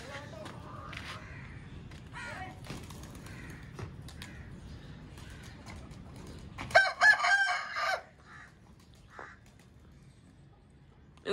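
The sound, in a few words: chickens clucking and a rooster crowing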